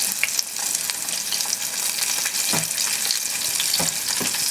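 Egg-washed frog legs fry in a pan with a dense, loud crackling sizzle up close, broken by a few sharp scraping stirs, and nobody speaks.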